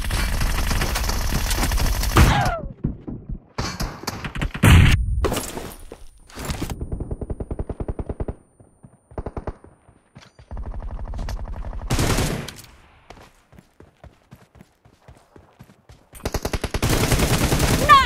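Gunfire in a mobile shooter game, loud rapid automatic bursts in several clusters separated by quiet gaps, close and punchy.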